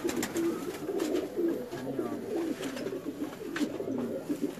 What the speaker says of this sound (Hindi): कबूतर आपको दिखा रहे हैं